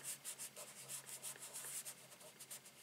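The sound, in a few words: rubbing on a stamped paper card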